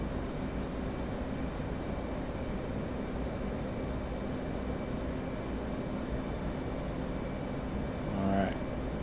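A jet aircraft engine drones steadily in the DCS flight simulator, a loud continuous broadband roar that swells slightly near the end, with speech briefly mixed in.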